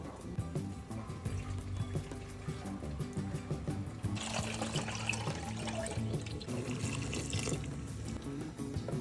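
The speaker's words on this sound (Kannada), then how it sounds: "ನಿಮ್ಗೆ ಎಷ್ಟು ಹದವಾಗಿ ಬೇಕೋ ಅಷ್ಟು ನೀರು ಹಾಕೊಳ್ಳಿ" Water pours steadily into a pot, a continuous splashing stream that grows fuller and louder partway through, with no voices.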